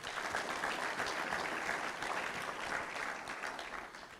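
An audience at a compliance management workshop claps in sustained applause, a dense, steady patter that holds for several seconds and fades slightly toward the end.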